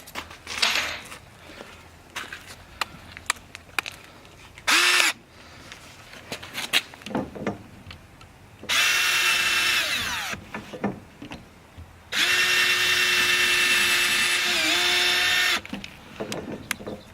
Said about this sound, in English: Put in 2 more little pilot holes.